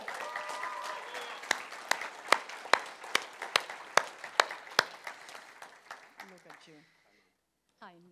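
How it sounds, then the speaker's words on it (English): An audience at a church service gives a great round of applause for a guest speaker, loud, sharp claps and scattered whoops that fade out toward the end, with a brief voice following. "So give a great clap for Jesus."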